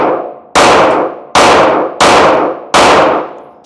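Rifle fire with an OSIGHT-K red dot, rounds striking a steel target: four sharp, loud metallic clangs in quick succession, each ringing out briefly before the next impact.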